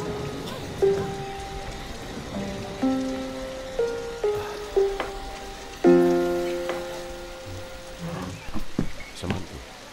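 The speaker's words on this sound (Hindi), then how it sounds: "बारिश हो रही है भाई साहब" Rain falls steadily on a surface as a continuous wash, with scattered drops pattering under a few sustained tonal notes and no talk.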